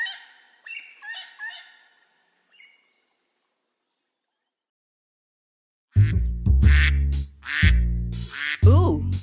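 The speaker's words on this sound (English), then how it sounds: "Ooh, a duck!" In a children's song, a duck quacks in a few quick nasal bursts. After a silent gap, a louder, longer run of fowl-like calls follows.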